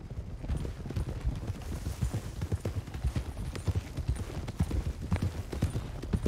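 Horses gallop in Red Dead Redemption 2, a steady rapid clip-clop of several hooves close by, continuous throughout, with faint voices in the background.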